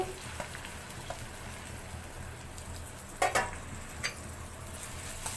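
Onions frying in about three spoons of hot oil give a steady, moderate sizzle, with a few louder crackles and stirring scrapes partway through.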